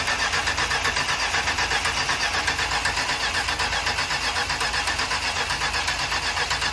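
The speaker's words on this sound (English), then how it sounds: "all of a sudden it's cranking" A vintage RV engine cranks continuously with a steady, rapid, rhythmic chugging from the starter, heard close and fairly loud without catching, no voices.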